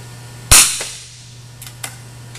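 A rifle with a stopped muzzle fires one sharp, loud shot that decays quickly, followed by a low steady hum and a couple of faint clicks.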